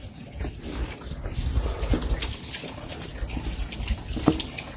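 Clean water from a mountain spring on a trekking trail up Salak 2 runs in a steady, close splashing flow, with faint voices in the background.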